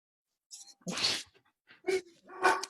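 A dog barks several times in short, separate bursts, fairly faint, with quiet gaps between them indoors.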